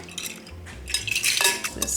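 A whisk clinks and scrapes against a bowl while spices (cinnamon, ginger, cloves) are stirred into canned pumpkin pie filling, quick metallic taps and swishes, close and busy, with no talking.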